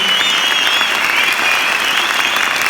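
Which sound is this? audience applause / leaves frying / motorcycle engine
audience applause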